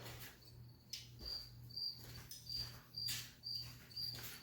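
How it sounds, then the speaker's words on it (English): Crickets chirp in a garage in the morning, a steady high trill repeating in short regular pulses about every half second, faint and continuous under a low background hum. "sorry about the crickets in the morning, guys"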